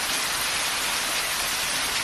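Hail and rain pour down during a freak storm south of Sydney at Helensburgh, a steady dense hiss of falling ice and water hammering the ground, loud and continuous without any voices.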